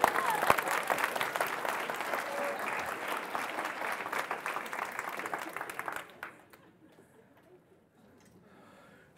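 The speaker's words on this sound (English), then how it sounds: "Give yourselves a round of applause." Symposium audience at an arts and dementia-inclusive community event breaks into warm applause, steady dense clapping that fades out abruptly near the end, leaving quiet room tone.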